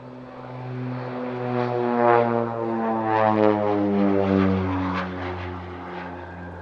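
An armed reconnaissance and ground-attack propeller aircraft flies past at the Paris-Villaroche airshow, a steady droning engine hum with rising and falling pitch, moderately loud and continuous.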